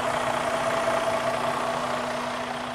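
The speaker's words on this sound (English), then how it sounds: "that's the big engine right there. The Detroit." A semi truck's Detroit diesel engine idles steadily and loudly up close, a constant low rumble with a steady hum and no voices.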